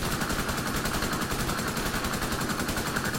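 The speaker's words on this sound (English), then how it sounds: "let me use the assault rifle as well." An assault rifle firing continuously in the video game The Division 2, a steady, rapid stream of close, loud shots with no pause.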